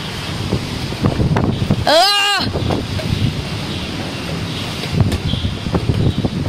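Strong hurricane wind gusts and buffets the microphone in a loud, continuous roar, with a person briefly crying out over it.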